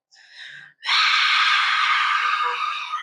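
A voice imitates the loud drone of a chemical plant, a short breathy burst followed by a sustained, harsh, screeching tone held for about two seconds at steady volume.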